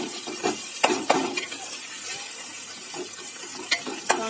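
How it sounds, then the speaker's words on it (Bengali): Chopped tomato tumbles into a pan of fried garlic and ginger, setting off a busy crackling sizzle with a few sharp clicks of stirring and the spoon against the pan, steady and close throughout. "এবার দিয়ে দিচ্ছি টমেটো কুচি"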